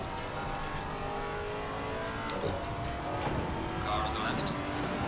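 A GT3 race car in the sim racing game Assetto Corsa Competizione sweeps past at Oulton Park, its engine a steady, fairly loud drone that swells and fades, with a voice talking over it throughout.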